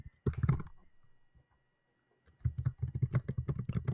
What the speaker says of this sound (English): I don't know who's typing